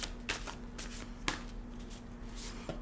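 Playing cards being shuffled in a few quick riffling bursts, close and fairly quiet, over a low steady hum.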